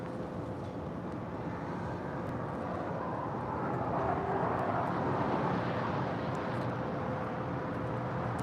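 A JetBlue airliner landing on runway 25 left at LAX, a broad, distant jet roar that swells slightly in the middle and stays steady throughout.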